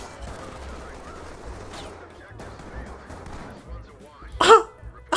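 Gunfire from a police shooter video game: a few sharp, scattered shots, with the loudest burst near the end, over steady game background noise and voices.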